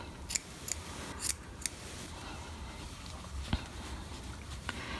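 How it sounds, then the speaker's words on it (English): Scissors snip at a yarn pom pom to even it out, a few crisp separate cuts spaced irregularly over quiet room tone. "I'm just going to trim it all the way around just to make it a bit more even"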